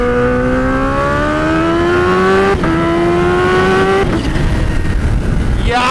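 A Suzuki Hayabusa motorcycle pulls hard at high speed with the front wheel lifting, its engine note climbing steadily through gears with brief shift breaks, loud and close over constant wind roar.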